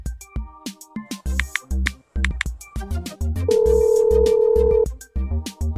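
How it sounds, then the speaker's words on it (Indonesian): A phone call rings in Sakura School Simulator: a short series of electronic blips followed by a steady, clearly heard ringing tone that holds for over a second, then more clicks and tones. "Gue telepon Cia dulu."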